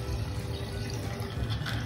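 Water poured over Oreo, a puppy being bathed and shampooed, a steady close splashing stream with no voices.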